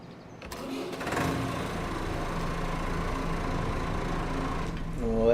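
A tractor engine runs steadily in Farming Simulator 25, a continuous mid-pitched drone that swells slightly after the first second and holds at an even, fairly loud level throughout.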